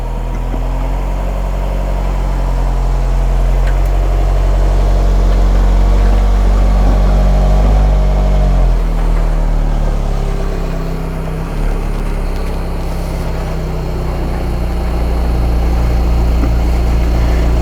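A car's engine drones loud and steady as it creeps up onto the bed of an RV hauler, a low continuous rumble with slight swells in throttle and no talking over it.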